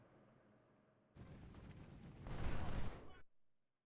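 A musket volley in Ultimate General: Civil War, a dense rolling crackle of many shots building into a loud sustained roar over a few seconds, then stopping abruptly.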